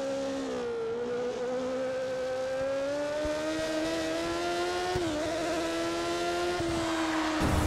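Williams Formula 1 car at the Hungarian Grand Prix in a racing game, a high engine whine climbing steadily, dipping briefly, then climbing again as the wheels spin, loud and continuous, no talk.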